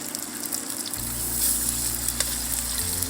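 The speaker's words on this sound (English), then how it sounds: "you're going to take your salmon and your seasoned side down. That's going to go into the pan" Seasoned salmon, seasoned side down, sears in hot canola oil blend in a pan: a steady close sizzle with a low hum underneath, continuous and alone.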